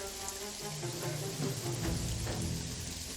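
Steady rain falls in the video game Jagged Alliance 3, a constant hissing patter with faint tonal game sounds layered underneath, even and moderate in level.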